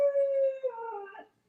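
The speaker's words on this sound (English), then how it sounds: "Yeah, like this dog." A single dog lets out a drawn-out tonal howl that breaks into a wavering whimper before fading, close and clear with no other sounds around it.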